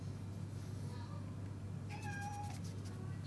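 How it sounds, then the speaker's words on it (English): A cat gives a short meow, clear but fairly quiet, over a steady low electrical hum. "It's my cat you can hear him meowing."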